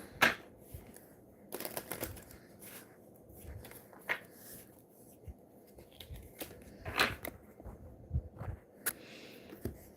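Pick-a-card reading cards being shuffled in several quick riffling bursts with pauses between, close by and fairly quiet, along with some light handling noises.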